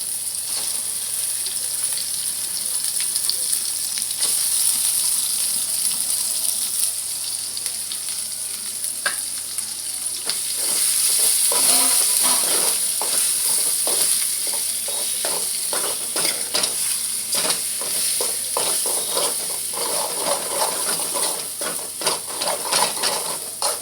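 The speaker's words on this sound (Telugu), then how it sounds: "ఇలా మిగిలిన పేస్ట్ని మనం ఆయిల్లో వేసుకుందాం." Spice paste frying in hot oil in a pan, a steady bright sizzle with scraping stirs and occasional spatter crackles throughout, close and continuous.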